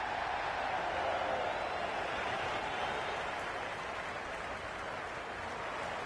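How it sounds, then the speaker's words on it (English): A cricket stadium crowd in Cricket 26 keeps up a steady, distant roar of cheering and murmuring, an even wash of noise with no distinct peaks. "There's an almost tangible fervour throughout the crowd at the moment."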